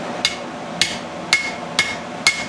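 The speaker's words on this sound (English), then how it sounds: "we're just going to cut it with the old hot cut tool" A hammer strikes a hot cut tool on hot steel while a knife is made in a forge: five sharp, ringing metallic blows at an even, unhurried pace, close and loud, with no talking.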